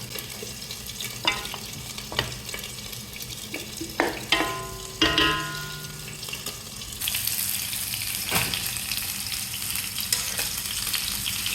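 Tomatoes stirred and fried in a pan, a steady sizzle with scraping spoon strokes against the metal and brief tap-water runs, continuous and close with no voices.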